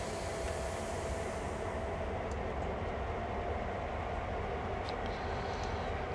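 A heavy CSX freight train in Train Sim World creeps in reverse through a yard, giving a steady, continuous low rumble and rolling wheel noise throughout with no speech.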